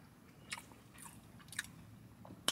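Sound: eating pizza with garlic sauce, chewing

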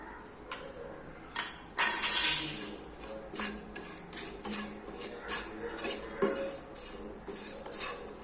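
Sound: stirring ground spices into ginger curry mixture in pan

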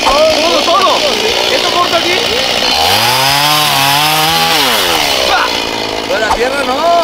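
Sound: chainsaw cutting wood

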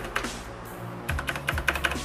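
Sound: typing on a mechanical keyboard with blue switches

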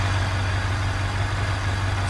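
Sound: damaged SUV engine still running in video game BeamNG.drive

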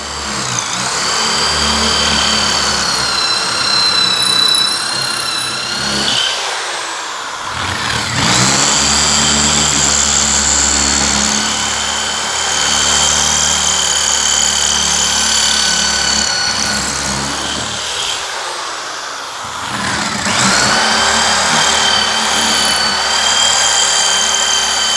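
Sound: electric drill drilling into concrete

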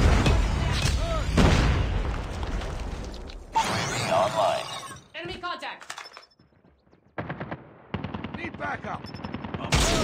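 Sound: predator missile explosion in Call of Duty Mobile video game

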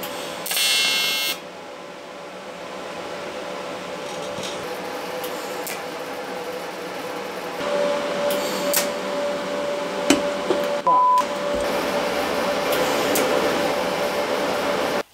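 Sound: tack welding a car part

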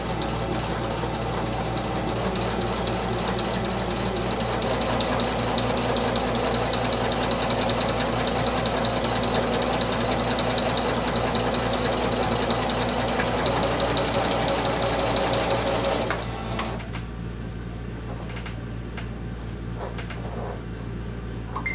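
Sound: domestic sewing machine stitching vinyl wallet

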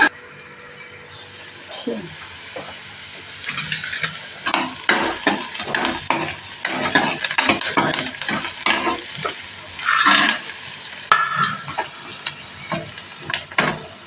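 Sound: onions frying in a pan

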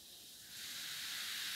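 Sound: baking soda and vinegar fizzing

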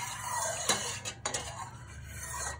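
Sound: stirring rose water into milk in a pot

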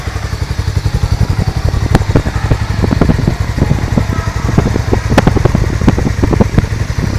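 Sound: Hero Mavrick 440 motorcycle engine idling

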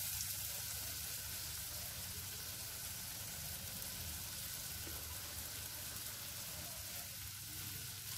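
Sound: green chillies frying in hot oil

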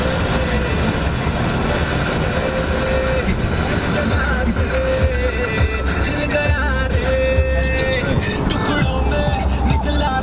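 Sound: taxi driving through traffic in Dubai

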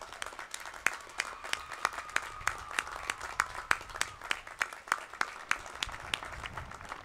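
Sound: graduation audience applauding the faculty

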